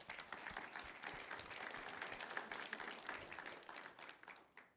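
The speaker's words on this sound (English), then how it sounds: "So a round of applause for them, please." Audience applause after a conference presentation, steady dense clapping from a seated crowd that holds for several seconds and tapers off at the end.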